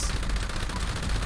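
Light machine gun in Fallout 76 firing a fast, steady stream of rounds in a short, continuous burst, moderately loud with no voices.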